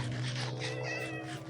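A cat meows in the video game Minecraft, a clear drawn-out mewing call heard close and alone against a faint steady hum.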